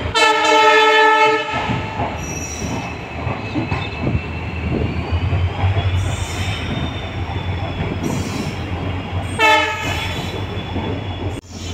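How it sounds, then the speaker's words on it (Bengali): The Siliguri Intercity Express pulls away, heard from the first coach behind the locomotive: a loud horn blast opens, then a rolling rumble with wheel squeal and clatter, and a second horn burst comes near the end. "ট্রেন ছেড়ে দিয়েছে।"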